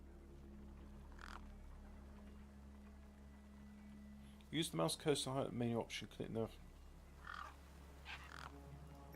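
Crows cawing in a video game, a short burst of harsh repeated calls in the middle of the clip over a low steady hum, with a narrating voice speaking before and after.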